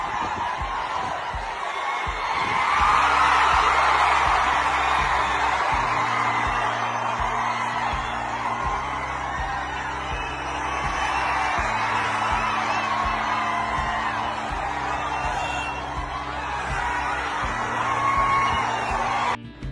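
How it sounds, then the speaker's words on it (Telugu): Fans gathered in Pithapuram to see film stars Pawan Kalyan and Ram Charan, shouting and whooping as one dense, continuous crowd roar over a steady, pulsing low beat of music that runs through the whole stretch. "ఎంతోమంది ఫ్యాన్స్ అరుపులు కేకలతో ఎంతో ఆనందంగా"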